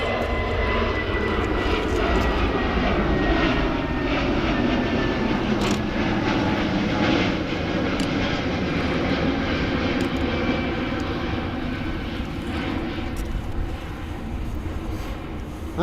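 Aircraft departing from runway 23 at Manchester in cloudy weather, a loud sustained jet engine roar that stays strong throughout and eases slightly toward the end, with no talking.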